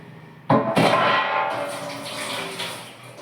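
Tap water gushes into a sink for washing dishes, starting abruptly with a splashy burst and then running steadily, close and fairly loud, with a few clinks of utensils near the end.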